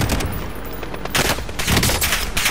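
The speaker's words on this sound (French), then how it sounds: "Subit des tirs." Dense, loud automatic gunfire rattles continuously in Call of Duty: Modern Warfare, close and unbroken, with heavier bursts in the second half.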